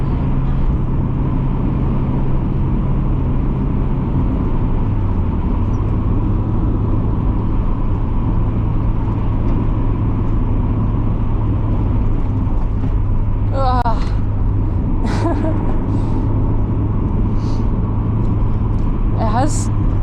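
A 1989 Mazda Miata rolls along a regular road, giving a steady, fairly loud low engine and road drone throughout with a brief pitch shift early on, while people talk over it.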